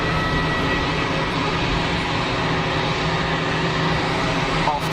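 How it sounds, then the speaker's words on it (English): An airliner taking off at Geneva Airport, a loud, continuous jet engine roar with a steady hum, heard from a distance with faint talk underneath. "good takeoff performance"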